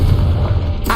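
A Confringo spell explosion in the video game Hogwarts Legacy lands as a loud, close, short boom with a low rumbling body that cuts off after about a second.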